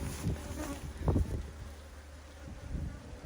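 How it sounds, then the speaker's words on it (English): Honey bees buzz close by at a beehive in a few low, wavering bursts that swell and fade, quiet overall with faint wind in the background. "You can see they're already buzzing around me."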